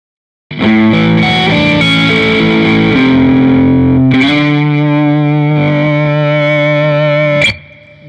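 An electric guitar plays loud and distorted through a Marshall amp, with a boost pedal engaged in the amp's effects loop. Sustained chords and single notes ring out alone and close, then cut off abruptly at the end.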